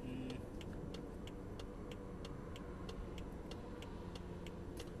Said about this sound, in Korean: 뒤쪽에서 지금 타이어 소음이 심하게 들려오죠